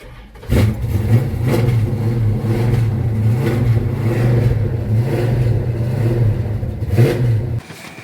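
A 1973 Dodge Charger's engine revs loudly and close, a rough throbbing rumble held steady for several seconds with a few sharper blips before it cuts off abruptly near the end.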